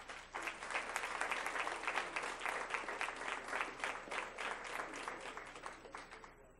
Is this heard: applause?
yes